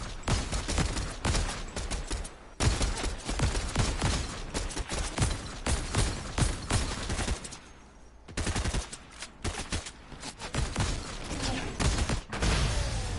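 Rapid bursts of gunfire in a Fortnite match, with dense automatic fire and repeated shots in clusters, a short pause midway and another, loud and close throughout.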